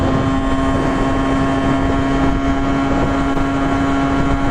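A Kawasaki KE100 motorcycle engine holding a high steady drone in top gear during a top speed run, with constant wind rush around it, loud and close for the whole stretch.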